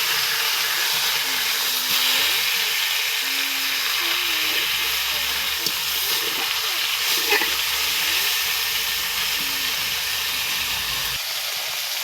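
Barramundi fish sizzling steadily in hot oil in a wok, a continuous close hiss and crackle that runs unbroken throughout.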